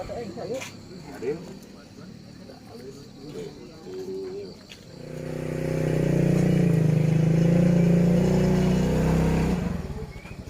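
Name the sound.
motorcycle engine running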